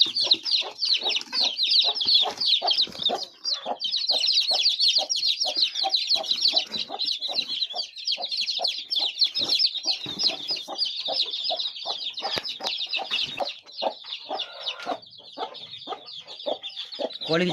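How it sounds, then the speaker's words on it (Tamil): Young chicks being vaccinated fill the space with dense, continuous high chirping and peeping, layered with rapid clucks, loud and close for the whole stretch with no pauses. "கோழி குஞ்சுலாம் நல்லா ஆக்டிவாக தான் இருக்குது."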